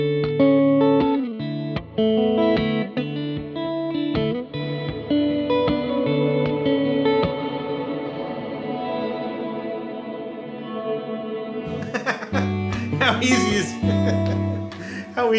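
Electric guitar notes and chords ring through a Line 6 Dynamic Hall reverb pedal, each attack washing into a long, dense hall tail, with a busier, brighter strummed burst near the end.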